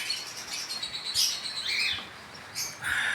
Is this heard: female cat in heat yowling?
no